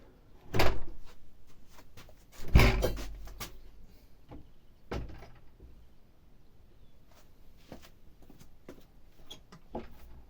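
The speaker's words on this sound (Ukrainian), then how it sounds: "закрились двері" Door closing with a few firm thuds, two strong bangs early and another a few seconds later, followed by softer scattered knocks and rattles in a quiet room without talk.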